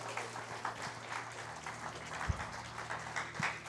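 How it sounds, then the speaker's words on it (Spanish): Congregation applause during a Spanish-language church sermon, a faint steady patter of many hands clapping in a large room with a few sharper knocks rising above it. "Si le vas a dar el aplauso, dáselo con fuerza,"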